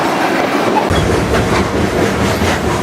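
Freight train rolling toward the Great Salt Lake on a hopped ride, its steady loud rumble and clickety-clack of railcar wheels filling the whole stretch with no voices.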